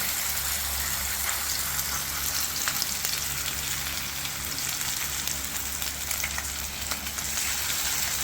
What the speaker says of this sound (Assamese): তেলখিনি গৰম হ'ল, এতিয়া মাছ লৈ প্ৰথম দিলোঁ এপিচ